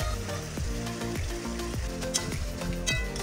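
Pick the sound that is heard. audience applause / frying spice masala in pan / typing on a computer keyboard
frying spice masala in pan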